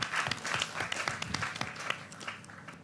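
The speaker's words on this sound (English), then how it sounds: "Can you please give another round of applause for the team?" An audience at a children's hackathon finale claps for a team, a fairly quiet, brief burst of applause with distinct individual claps standing out, tapering slightly toward the end.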